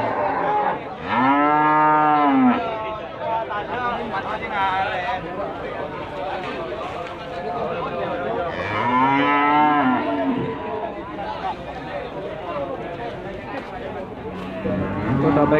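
Female cattle, including Limousin and Simmental types, moo loudly at an Indonesian livestock market, two long drawn-out calls a few seconds apart, over busy crowd chatter and people talking.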